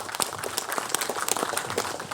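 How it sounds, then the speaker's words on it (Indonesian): Steady applause from a crowd, a dense patter of many hands clapping at even loudness throughout, with no voices standing out. "Kita berikan tepuk tangan dan apresiasi pada mereka."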